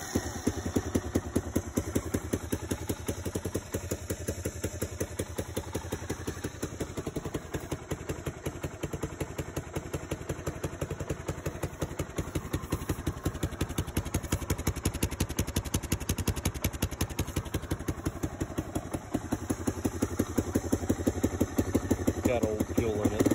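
A 1987 Honda Big Red 250 three-wheeler, running on old fuel after an ignition repair, idles with a rapid, steady mechanical putter and clatter close by, continuing evenly throughout without voices.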